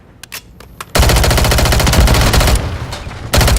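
Call of Duty gunfire: after a few isolated shots, a loud, close automatic weapon fires long continuous rapid bursts that briefly pause and resume, with no talk over it.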